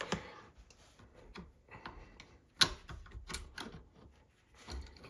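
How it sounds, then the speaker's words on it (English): Small metal parts of a .44 carbine action being handled as the spring is removed, giving faint, close, irregular ticks and clicks with one sharper snap midway. "I'm going to remove the spring"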